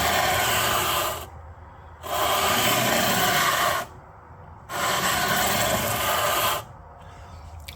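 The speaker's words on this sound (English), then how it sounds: "I've got my sanding block here" Long, even strokes of a sanding block with 320-grit sandpaper along the fretboard of a Harley Benton DC-600 VI guitar, three sustained rasping passes separated by short pauses, close and alone.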